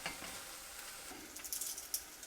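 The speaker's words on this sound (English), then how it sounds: "So we crush the garlic in. Give it a quick stir." Crushed garlic being stirred into a hot pot of meatloaf mixture, faint sizzling with soft scraping stir strokes that grow a little louder and busier toward the end, no talking.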